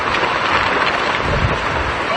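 Strong typhoon winds during Typhoon Aghon in Surigao City roar as a steady, dense broadband rush, loud and unbroken throughout with no clear gusts standing out.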